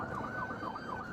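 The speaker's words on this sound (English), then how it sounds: "The afternoon traffic was heavy as sirens echoed across the highway." Police car sirens wail during a highway pursuit in heavy afternoon traffic, a rapid warbling yelp rising and falling several times in quick succession, moderately loud and slightly distant.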